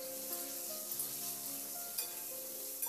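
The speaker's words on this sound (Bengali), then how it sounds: "এবার এই আলুর মধ্যে সামান্য একটু লবণ আর হলুদ দিয়ে নাড়াচাড়া করে বেশ একটু হালকা করে ভেজে নেব আলুটাকে।" Diced potatoes frying with salt and turmeric in a pan, a soft, steady sizzle with a few clicks of stirring.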